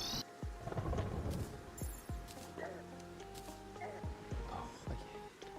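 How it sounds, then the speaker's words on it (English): Constant acid rain with rumbling thunder in a video game, a steady rain hiss under repeated low thunder booms and crackling impacts, with faint game tones running throughout. "I hate the fact that this is a constant acid rain,"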